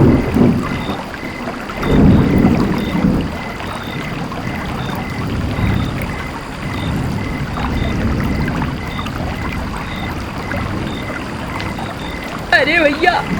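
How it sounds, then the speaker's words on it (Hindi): Cartoon storm effect on a stormy night: a steady, loud wash of wind and rain with deep thunder rumbles swelling around the start, continuing without talk. "एक तूफानी रात थी।"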